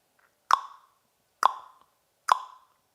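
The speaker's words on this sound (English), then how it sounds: "you could do the pop sound" Three sharp, hollow tongue pops made against the roof of the mouth, evenly spaced about a second apart, each clear and close in otherwise quiet surroundings.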